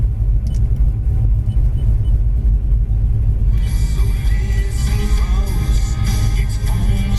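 A 1971 Chevrolet Chevelle Heavy Chevy engine idling, a loud, steady, close rumble that holds unbroken throughout with a slight brightening of higher hiss partway through.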